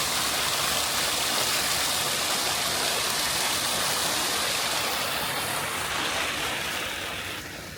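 A small waterfall stream at Stanley Mill in Sankey Valley rushes steadily, a loud continuous broadband splash of falling water that stays even throughout before easing slightly at the end, with no voices.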